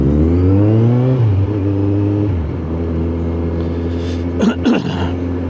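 Car accelerating away from traffic lights in London, heard from inside with a loud engine climbing through the gears, two shifts audible, then a steady drone with a brief rustle near the end.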